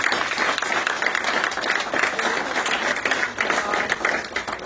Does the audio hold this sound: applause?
yes